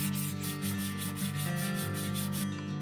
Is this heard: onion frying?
no